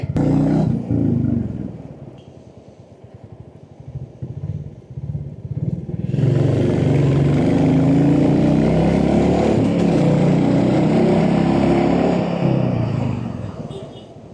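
A Royal Enfield Classic 350cc motorcycle idles and rides with a thumping engine that builds to a loud, sustained roar partway through, then holds steady as it moves along.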